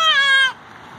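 A cat gives a single clear, loud meow lasting about half a second, close by, followed by near silence.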